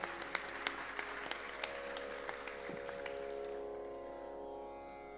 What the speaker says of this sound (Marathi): यांच्यासाठी परत एकदा आपण टाळ्या वाजवूया